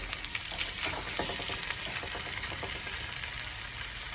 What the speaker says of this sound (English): just put it in like that and fry it a little bit